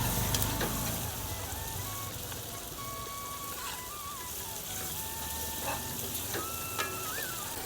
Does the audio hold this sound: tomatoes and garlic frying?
yes